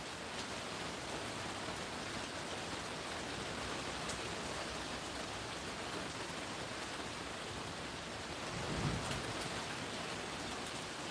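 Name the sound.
rain with distant thunder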